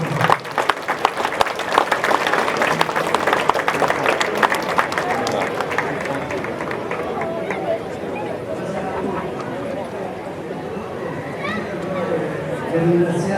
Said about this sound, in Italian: il sindaco di Venetico Francesco Rizzo, vi chiedo di fare un grande applauso